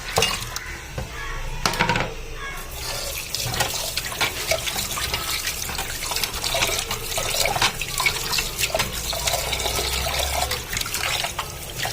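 Tap water runs steadily while raw beef is rinsed in a sink, a continuous close splashing and trickling with small drips throughout, no voices.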